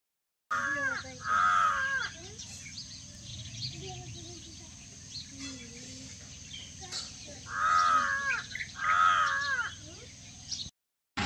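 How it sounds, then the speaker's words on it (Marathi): A crow perched on a pole near a house caws repeatedly, its harsh calls arriving in close pairs with pauses between, loud and near over a steady low background hum. "आणि तर घराजवळ खांबावर बराच वेळ झाला कावळा ओरडतोय."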